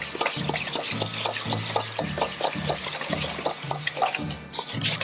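Cookie batter for langues de chat being mixed with a whisk after fresh egg whites go in, giving a rhythmic, repeated thudding and scraping against the bowl at close range, alone without speech.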